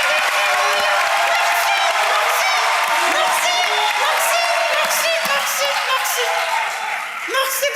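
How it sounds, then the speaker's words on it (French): Audience at a televised talent show clapping and cheering, loud sustained applause with whoops and voices mixed in, easing slightly near the end. "Applaudissez, applaudissez."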